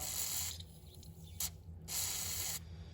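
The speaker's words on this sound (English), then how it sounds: "Spray some WD-40 in there" Two bursts of WD-40 aerosol spray hiss into a BMW E36 steering rack boot, each lasting about a second, separated by a short mechanical click and rattle, close by, over a low hum.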